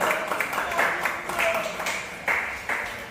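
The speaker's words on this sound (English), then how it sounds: "big round of applause for Frank." Audience applause at an integrity day event, moderately loud scattered clapping with individual claps standing out and some talking underneath.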